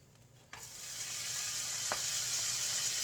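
A second batch of sandwiches starts sizzling in cookware about half a second in, after a quiet start. The steady hiss builds and holds close and alone, with one faint click partway through.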